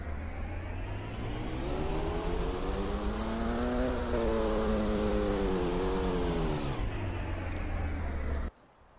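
A simulated car engine in a Unity game hums steadily, its pitch rising and then falling back in one smooth acceleration sweep, before stopping abruptly near the end.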